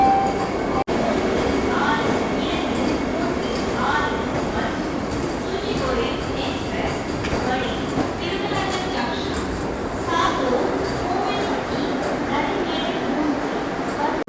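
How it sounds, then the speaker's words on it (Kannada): Tuticorin Express pulling into Madurai Junction, a steady, close rumble of the moving train filling the whole stretch, with station bustle and voices talking over it. "ನಮ್ಮ ಟ್ರೈನು ರೀಚ್ ಆಗಿದೆ ಮಧುರೈ ಜಂಕ್ಷನ್ಗೆ"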